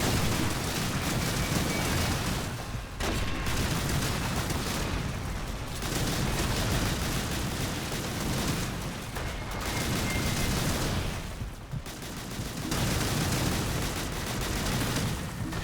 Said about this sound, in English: that's an anti-aircraft weapon